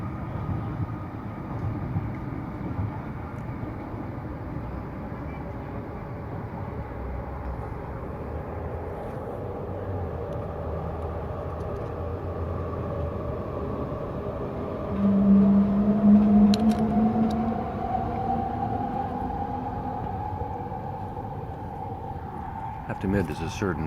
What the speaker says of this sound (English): after that train goes by